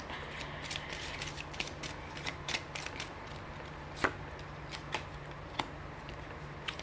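Tarot cards being shuffled and drawn for a reading, heard as soft, scattered papery flicks and taps against a quiet room hiss, with one slightly sharper snap near the middle and no voices.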